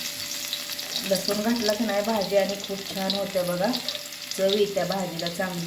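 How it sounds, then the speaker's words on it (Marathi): Garlic frying in hot oil in a home kitchen while greens are prepared, a steady broadband sizzle running throughout beneath someone speaking continuously. "तेल ओतूया, लसूण टाकूया."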